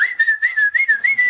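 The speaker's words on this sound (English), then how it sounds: "You whistled?" A person whistles a steady, wavering tune in short repeated phrases, close and clear with no talking.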